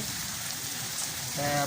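Steady rain hisses down, falling evenly on surfaces nearby, with a brief voice rising at the very end.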